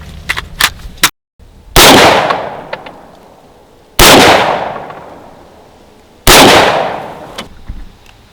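Rifle shots ring out one at a time during zeroing at a 25-yard range, three loud, sharp cracks spaced a couple of seconds apart, each with a decaying echo, alongside fainter distant shots.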